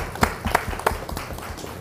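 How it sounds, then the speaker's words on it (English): An audience claps for a speaker invited to the microphone at an HOA bootcamp in Douglas County, with a few separate loud claps standing out over a quieter, scattered patter. "Let's give him a hand clap, guys."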